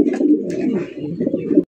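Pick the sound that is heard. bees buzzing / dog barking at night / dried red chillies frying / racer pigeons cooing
racer pigeons cooing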